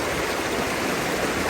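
A flowing river rushes steadily close by where people wash clothes, a constant broadband watery roar without any voices.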